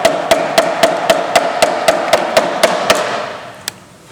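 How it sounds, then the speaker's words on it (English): A soft-head hammer taps tunnel protectors into place, about a dozen close, evenly spaced knocks at a quick steady rhythm, then a pause and one last tap. "If it gets too tight, just take a soft head hammer and just tap them in."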